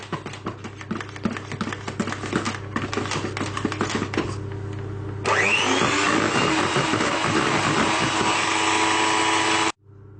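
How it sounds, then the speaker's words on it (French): Yogurt cake batter being mixed after flour is added: a loud, continuous whirring of a mixer that shifts to a brighter, harsher tone halfway through, then cuts off abruptly near the end. "je mets mon deuxième verre de farine et je vais mélanger comme tout à l'heure"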